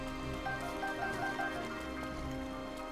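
Steady rain patters in a Legend of Zelda game as the hero explores around Hyrule Castle, a soft continuous hiss of drops with game music playing underneath throughout.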